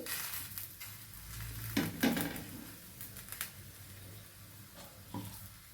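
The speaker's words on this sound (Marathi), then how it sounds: "त्याच्यानंतर आपल्याला थोडंसं पलथ्याने थोडं थोडं असं करून घ्यायचं हे" An onion mixture is pressed and stirred with a spatula as it fries in a pan, giving a quiet, continuous low sizzle with scattered light scraping taps and a couple of sharper knocks, without speech.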